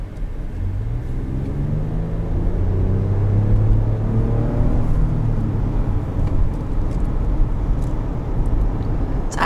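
A 2018 Toyota Highlander XLE V6 on the road gives a steady engine drone and rising rumble from inside the cabin, with continuous road and tyre noise throughout and no talking.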